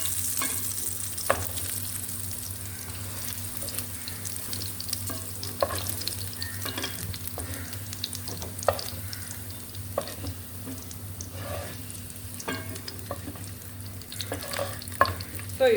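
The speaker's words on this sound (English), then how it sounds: "pan fry them a little just to become more brown." Sausages pan frying on a stovetop, a steady close sizzle with scattered pops and clicks of utensils throughout, no voices.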